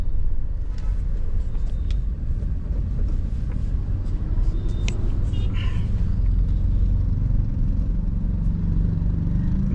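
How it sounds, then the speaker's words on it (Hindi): Dense, heavy highway traffic heard from inside a Tata Nexon facelift, with a constant loud low rumble of engines and tyres and a few faint horn beeps in the distance. "कितना गंदा ट्रैफिक है"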